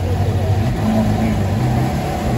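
A sports car accelerating in Monaco, its engine droning steadily at close range through the short stretch, with a voice talking over it.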